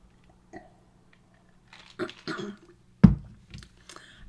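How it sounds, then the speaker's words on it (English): A single sharp cough erupts near the midpoint, preceded by faint rustles and small indoor handling noises at a crafting desk; close and fairly loud, with quiet clicks trailing after it. "The cough is just killing me."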